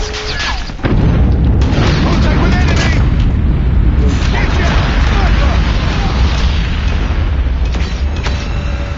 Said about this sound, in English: Friendly nuke has been launched.